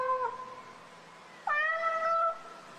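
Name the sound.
cat meowing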